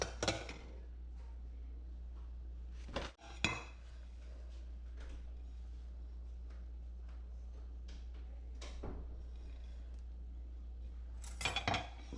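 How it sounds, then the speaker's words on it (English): Saladmaster pots are handled and set down: scattered metallic clanks and clinks, a few sharp knocks spread over the stretch, above a steady low electrical hum. "I just found your pots."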